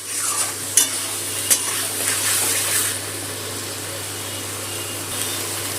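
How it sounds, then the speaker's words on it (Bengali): Spice paste loosened with water simmers in a pan while a spoon stirs it, giving a wet sizzle and a couple of sharp scrapes early on, then a steady low bubbling hiss with no voices. "মশলা বাটার জলটা দিয়ে দিলাম। জলটা দিয়ে আর একটু নেড়ে নেব।"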